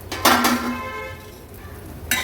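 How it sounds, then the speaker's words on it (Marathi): A metal lid is lifted off a cooking pot of spice paste steaming in oil, giving a sharp clank with a brief ringing tail, followed moments later by a second short metallic knock. "मिनिटभर झाला आहे, झाकण काढून घेऊया।"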